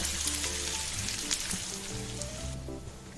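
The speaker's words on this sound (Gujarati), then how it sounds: "હવે આપણે તેની અંદર જે ટિક્કી બનાવી રાખી હતી તે આપણે તેની અંદર એડ કરી દઈશું. અને હલાવીને બરાબર મિક્સ કરી લેવાનું છે." Poha and sooji tikkis going into a hot pan and being stirred, with steady oily sizzling and frying crackle throughout, a few faint scrapes mixed in, close and alone without talk.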